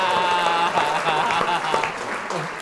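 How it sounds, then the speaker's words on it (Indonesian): Applause from a crowd, steady clapping filling a couple of seconds with some voices mixed in. "Tepuk tangan dulu untuk penontonnya Opung Parbelak"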